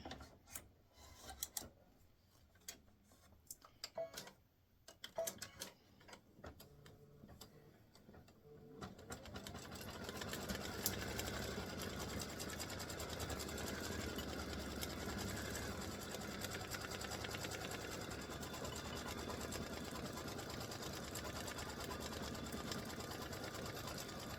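A home sewing machine winds a fresh white bobbin: a few faint clicks and taps, then a steady, close mechanical whir that holds evenly to the end with no voices.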